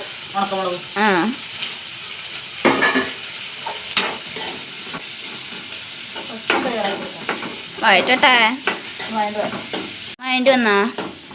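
Onion and chilli sauté in a pan with a soft, continuous sizzle and stirring scrapes, while a voice talks intermittently over the cooking noise.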